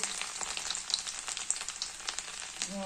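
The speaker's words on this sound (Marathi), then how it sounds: "त्यामध्ये जिरे ॲड करूया मोहरी आणि आधी आपण सर्वप्रथम लसूण परतून घेऊया" Garlic sizzles in hot oil with cumin and mustard seeds, a dense, crackling fry that carries on steadily with sharp pops, and a brief clink near the end.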